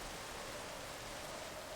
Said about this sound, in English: turn off this bloody rain